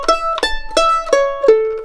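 A simple arpeggio improv lick picked on a bright acoustic string instrument, likely a bluegrass mandolin or guitar: five clear plucked note onsets in steady rhythm, close and solo, the last note ringing out.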